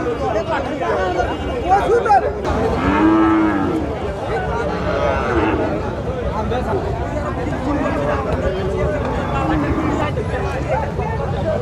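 A local-breed bull lows at a busy cattle market in Bangladesh amid steady crowd chatter and people talking, the moo rising briefly out of the noisy background.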